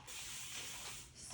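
Leave-in conditioner spray misted onto natural hair in a single steady hissing burst lasting just over a second, close and fairly loud, with no speech over it.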